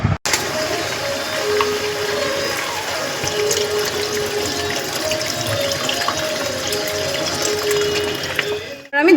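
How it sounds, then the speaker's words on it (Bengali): Water poured into a pot of browned chicken curry, a steady liquid rush with mechanical clatter, running continuously for about nine seconds and stopping near the end. "মাংসটা কষানো হয়ে গেছে, এর মধ্যে আমি কিছুটা পরিমাণ জল দিয়ে দিলাম।"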